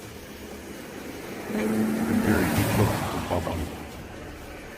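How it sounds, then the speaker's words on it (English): Oncoming car engine approaching on a bridge at night, a low swelling rumble that rises for a couple of seconds then fades, heard over steady wind-like background noise. "The sound of an approaching engine turns out to be nothing more than oncoming traffic."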